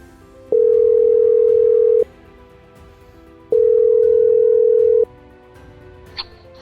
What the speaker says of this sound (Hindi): हम फोन मिलाते हैं